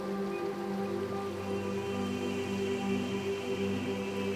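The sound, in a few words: flowing stream water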